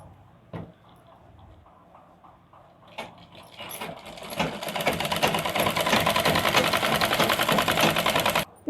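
A sewing machine stitches the lining of a blouse, starting with a few slow, sparse stitches before settling into a fast, steady, loud rattling run that cuts off abruptly near the end.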